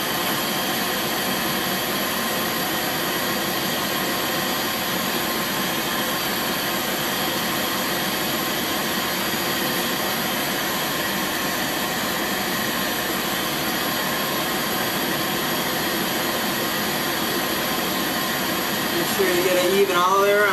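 A glassworking torch roars in a steady, loud, continuous hiss while it heats two glass pieces to seal them together, without pause throughout.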